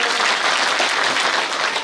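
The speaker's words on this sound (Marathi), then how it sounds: "त्यांच्यासाठी एक टाळी वाजवा" An audience bursts into loud, dense applause at a devotional kirtan gathering, many hands clapping together in a steady roar for the whole brief moment.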